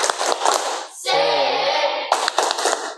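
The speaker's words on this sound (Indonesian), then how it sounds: "Kita tepuk semangat dulu, ya." A school class performs a rhythmic spirit clap, two bursts of quick patterned clapping separated by a short sustained voiced chant.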